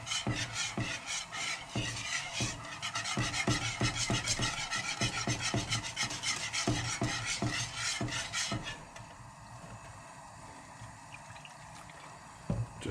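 A gluten-free béchamel sauce being whisked in a pan as milk is added, with rapid close scraping and clinking strokes for several seconds, then quieter stirring and a couple of faint knocks near the end.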